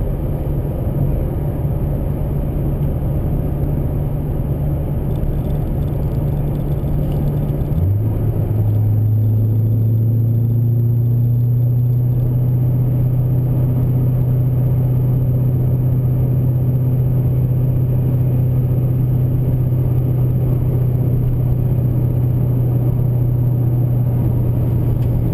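A Vengeance Racing Stage II cammed LS3 car cruises steadily in sixth gear at about 1,000 RPM and 40 mph, a low continuous engine drone and road rumble with a slight shift in tone partway through, no talking.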